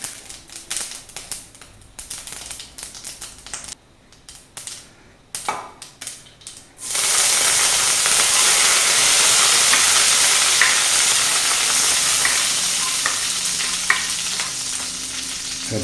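Curry leaves hitting hot oil after mustard seeds have popped in a home kitchen, a sudden loud, steady sizzle that bursts in partway through and holds, preceded by quieter clinks and stirring.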